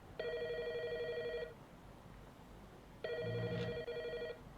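A telephone rings twice in the video game Inkonbini, an electronic bell trill with a pause between the two rings, clear and fairly close over soft rain-like background.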